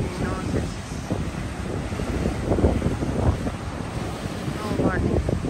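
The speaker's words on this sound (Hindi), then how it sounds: "ये देखिए जी पानी की लहरें, चेक करें पानी" Sea waves wash onto a beach under heavy wind buffeting the microphone, a loud continuous roar with faint voices briefly audible.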